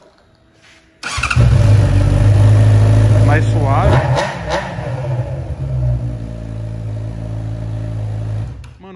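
A Honda Hornet motorcycle engine with its original exhaust starts up and settles into a steady, throaty idle close by, while someone talks over it.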